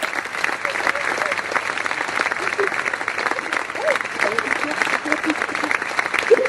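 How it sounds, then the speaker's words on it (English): Audience applause fills the room in a sustained, even wash of many hands clapping, steady throughout without talk over it. "we have an applause session for our sponsors."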